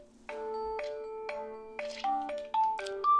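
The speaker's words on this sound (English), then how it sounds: "That's my phone." A phone ringtone plays a bright, rising sequence of electronic chime notes, loud and close, with no talking over it.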